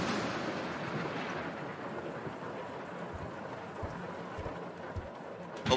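A thunderstorm in the horror game Suffer the Night, with steady rain and low rumbling rolling on continuously, a dense broadband wash that sits fairly close and holds even without any talking.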